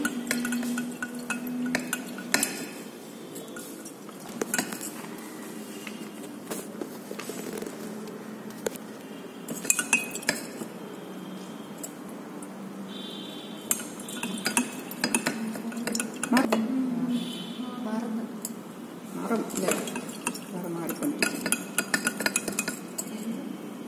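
Glassware clinks and taps throughout a titration of ferrous ammonium sulphate, added dropwise during a soil organic carbon practical, with repeated small chinks over a constant low background.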